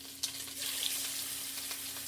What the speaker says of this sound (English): Now let's get some beef cheekage into that pan.